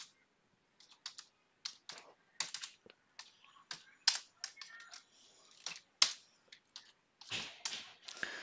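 Someone types a short bash command on a computer keyboard, a sparse run of quiet, crisp key clicks with brief pauses between strokes and no talking.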